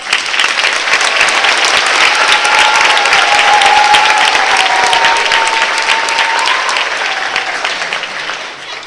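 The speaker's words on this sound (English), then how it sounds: "let's give Miss Stanley a round of applause" A school band and choir concert audience gives a loud, sustained round of applause for a teacher, dense clapping that swells quickly and holds strong before tapering slightly near the end, with a faint tone beneath.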